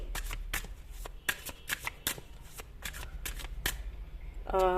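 A tarot card deck is shuffled in quick, crisp riffles and snaps, a dozen or so close bursts over a low steady hum, with a voice starting at the very end.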